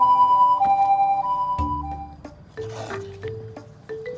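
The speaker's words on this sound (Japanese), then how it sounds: "救急車、サイレン鳴らして急げ" Toy-like ambulance siren sound effect for a children's picture book about vehicles, with alternating two-tone electronic wails, then shifting to lower repeating tones with a brief chime, close and clear.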